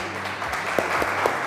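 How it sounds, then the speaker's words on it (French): Studio audience applause for a biology teacher contestant on a game show, a steady wash of clapping with a few louder individual claps standing out. "on l'applaudit s'il vous plaît."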